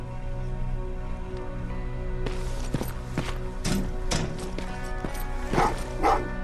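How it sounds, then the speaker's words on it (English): Dogs bark in an episode of Terminator: a series of sharp yips and barks of uneven rhythm, moderately near, over a steady humming background, growing busier toward the end. "Oh, what's with the dogs?"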